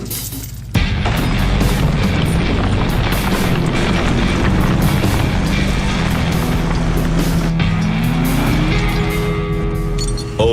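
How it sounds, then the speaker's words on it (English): A heavy Ford EcoBoost pickup truck engine roars steadily under strain hauling over 3 tons of logs uphill, loud and close, with a low rumble and rising pitch toward the end, wind buffeting throughout. "the EcoBoost engine takes off like a shot with its massive low-end torque, dragging over 3 tons of dead weight"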